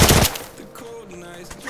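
Gunfire in a Free Fire–style match played inside Minecraft: a sharp, loud shot bursts at the start, then fainter scattered game sounds follow.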